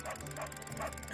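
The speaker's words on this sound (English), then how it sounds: "Why are you barking? Stop. Stop barking." A dog barks in the Fire Emblem: Three Houses video game, a quick run of repeated barks at a steady pace over constant background game sound.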